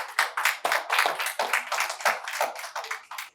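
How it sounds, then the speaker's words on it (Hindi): A small audience claps to welcome Google Boy Kautilya Pandit onto an Indian news interview set, a steady run of close, distinct hand claps for a few seconds with no talking. "तालियां रुकनी नहीं चाहिए"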